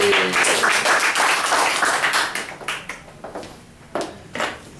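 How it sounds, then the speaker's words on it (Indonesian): Audience applause at an indoor seminar, a burst of clapping from a group that is loud at first, then thins into scattered individual claps and fades. "Kasih aplaus Bapak Ibu"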